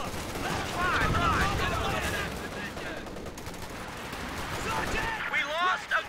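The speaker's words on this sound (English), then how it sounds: "50 cal? You're fucking shooting there." Rapid bursts from a .50 cal machine gun in the Company of Heroes 2 war game, amid a noisy battle with other gunfire, loud and sustained, with voices shouting over it.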